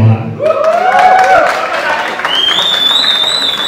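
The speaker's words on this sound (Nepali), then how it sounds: "जो जसले सम्भव छ एकपटक जाइराको यो नयाँ पोस्टरको लागि ताली बजाइदिनु होला" An audience applauding at a birthday event to mark the release of a new film poster, with a burst of clapping and crowd noise mixed with voices and tonal sounds.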